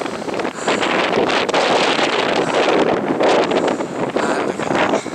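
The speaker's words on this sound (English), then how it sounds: "Whoa, that was a windy gust." A strong wind gust roars across a Dartmoor hilltop near Tavy Cleave, buffeting the microphone with a loud, sustained rushing that swells and eases slightly over several seconds.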